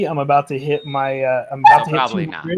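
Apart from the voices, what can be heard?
dog whimpering and barking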